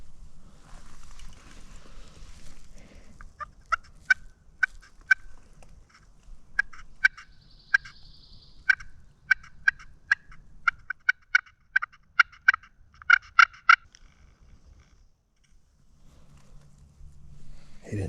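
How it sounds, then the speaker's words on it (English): A wild Osceola turkey gobbles repeatedly in the distance, rattling bursts spread across the clip over a quiet, low outdoor hush. "One just gobbled."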